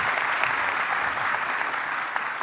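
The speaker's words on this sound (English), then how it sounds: "let's do one big more round of applause for our students" Steady, fairly loud audience applause at a medical school white coat ceremony, a dense wash of many hands clapping with no voices over it.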